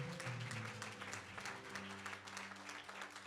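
Church congregation applauding together in steady, sustained clapping at close range, with organ-like sustained tones underneath.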